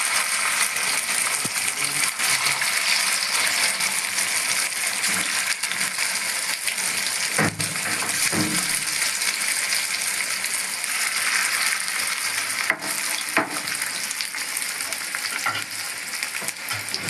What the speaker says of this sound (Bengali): এবার পকোড়াগুলোকে ভেজে নেব।